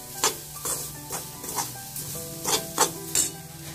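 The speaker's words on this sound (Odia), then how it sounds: "ଚାଲନ୍ତୁ ନୂଆ କଡ଼ିରେ ନଡ଼ିଆ ଭାଜୁଛି" Grated coconut roasting in a new pan for manda pitha, with repeated scraping and stirring strokes over a soft, steady sizzle, the stirs landing roughly every half second, close and moderately loud.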